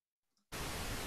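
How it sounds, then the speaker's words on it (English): Pink noise test signal switched on abruptly after near silence, a steady, loud broadband hiss weighted toward the lows, continuing unbroken to the end. "that was pink noise still, right, Pete? That was pink noise."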